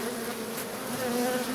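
A steady, close honeybee buzz drones on without pause, a dense insect hum with no voices.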